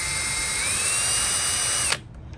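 A power drill whines steadily at high speed while boring into a plastic part of a vintage Motorcraft shop clock, then cuts off abruptly, leaving near silence.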